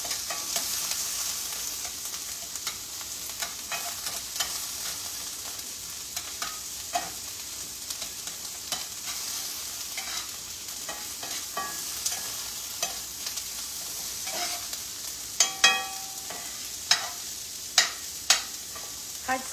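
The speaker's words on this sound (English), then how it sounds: "you can see how this is just kind of being sauteed together" Lean Hyde sausage sautés in a pan with a soft, constant sizzle; a spoon stirs it with intermittent scrapes and taps that grow sharper and more frequent toward the end.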